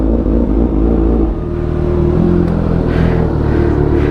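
A Kawasaki Z900 motorcycle engine runs close and loud, holding a steady rumbling note then rising into a revving surge that stays strong to the end, with no talking.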